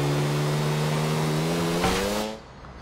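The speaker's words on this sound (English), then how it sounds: "Use a motorbike because a car will not do it." A motorbike races along the motorway in Grand Theft Auto IV, its engine holding a loud, steady high-pitched drone for over two seconds before cutting away abruptly.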